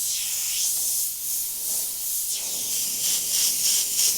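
An airbrush sprays cobalt blue paint in a steady, close, breathy hiss that swells and dips slightly in strength and never stops, with no voices.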